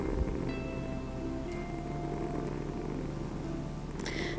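A cat purrs steadily and continuously close up, a soft even rumble with no pauses and faint hiss underneath.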